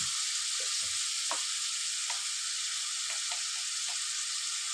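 Ginger and garlic with turmeric frying in a pan for a mullangi (radish) fry, a steady hiss of sizzling oil throughout with a few faint clicks, no voices.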